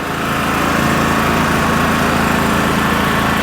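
A dual fuel 3 kW portable generator engine runs steadily at close range, a loud, even mechanical drone with a constant hum and no talking.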